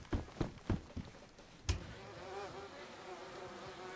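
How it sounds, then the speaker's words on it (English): Honey bees buzz in a video game, a steady insect drone running throughout behind a few sharp clicks and thumps near the start. "now we need to go find or get the honey bees."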